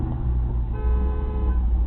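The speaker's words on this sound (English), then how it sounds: "you can hear the cars honking at her to get the hell out of there" Car horns honk at a drive-thru line, a sustained toot over a heavy low rumble of idling engines, recorded from inside a car.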